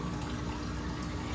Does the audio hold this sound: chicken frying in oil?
no